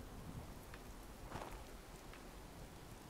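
Steady rain pours across an outdoor scene in the video game Fallout 76, a soft continuous hiss with a few brighter splashy bursts, and no one speaking.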